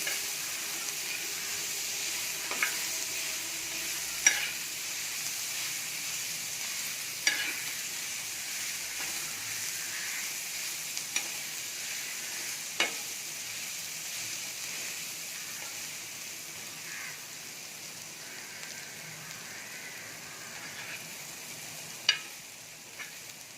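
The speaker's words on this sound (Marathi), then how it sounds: "कांदा मी चांगला तांबूस रंगावर भाजून घेणार आहे" Onion frying in a pan until golden brown, a soft, even sizzle and hiss throughout, with occasional faint clicks of a spatula against the pan, heard alone with no talk.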